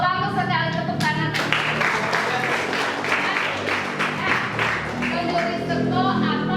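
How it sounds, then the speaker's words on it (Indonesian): A classroom of students breaks into a short burst of clapping that builds to a few seconds of scattered applause, then fades as a voice carries on underneath. "Bagus sekali, tepuk tangan."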